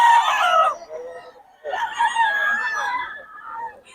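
A bullstag gamecock crows loudly and close by in two strained, ragged calls separated by a brief pause, with a clucking note between them.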